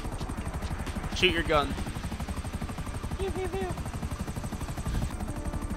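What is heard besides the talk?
helicopter in a video game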